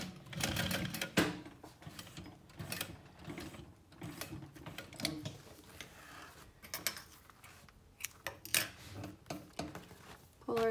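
A sewing machine stitches steadily along the edge of a handmade fabric clutch purse, its rapid mechanical clatter running in close, continuous bursts with brief pauses between runs.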